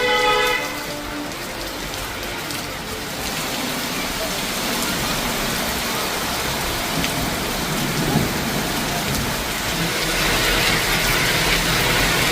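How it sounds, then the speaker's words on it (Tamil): Heavy rain pours down around Tiruttani in Tamil Nadu with thunder, a continuous dense hiss of rain on surfaces and low rumbles underneath, steady and loud throughout. "திருத்தணி சுற்றுவட்டார பகுதியில் வெளுத்து வாங்கிய கனமழை"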